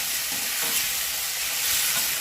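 Chopped spinach stirred in a hot pan for lahsuni palak, a steady close sizzle of frying with soft scraping stir strokes running throughout.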